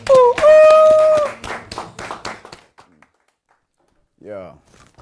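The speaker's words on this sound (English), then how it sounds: "Give him a big round of applause, everybody" An audience claps for saxophonist Kevin Estwick, a burst of sharp, close handclaps that thins out and stops. A person whoops over the claps, and a voice speaks briefly afterward.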